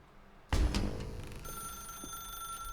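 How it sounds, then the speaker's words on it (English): An old-style telephone rings in The Stanley Parable video game, a loud bright bell burst starting abruptly and sustained tones continuing to the end, alone with no talk. "Now pick up the phone."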